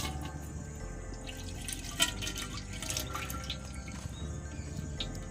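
Oil trickles into a clay pot (handi) to start a South Indian style giant prawn biryani, a quiet liquid pour with soft dripping that carries on steadily, close and without talk.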